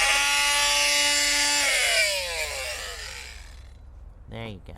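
A power saw cuts through a wooden corner while fitting a 6000 BTU air conditioner unit, whining loudly and steadily before winding down, followed by a brief scrape near the end.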